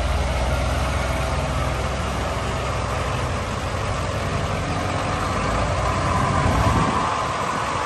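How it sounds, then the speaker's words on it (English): A concrete truck idles at a residential construction site where footers are being poured, a steady, loud low diesel rumble running continuously without talk. "The concrete truck here."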